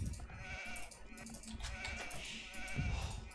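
Faint sheep bleats in a 4v4 Age of Empires match on Arabia, a few short wavering calls set among quiet game sounds while players talk softly.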